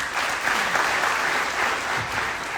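A large crowd at a live motivational business seminar claps loudly and continuously, a thick, even roar of many hands with no voices standing out.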